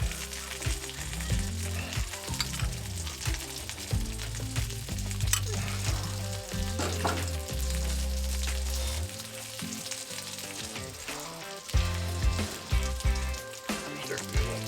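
Bacon and mushroom melt sizzling steadily on a Blackstone flat-top griddle, a continuous loud crackling fry with scraping and shifting of food, no voices.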